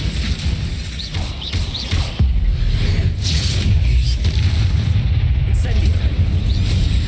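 A Bombarda explosion spell goes off in Hogwarts Legacy, a loud, deep blast that hits suddenly about two seconds in and leaves a heavy rumbling roar under the continuing game sounds.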